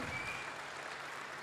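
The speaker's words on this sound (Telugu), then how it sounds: "ఈ చప్పట్లు కూడా అడిగి కొట్టించుకోవాలండి" Faint, steady clapping from an audience at an SBI Life corporate event, a soft continuous patter of many hands heard from a distance with no voices over it.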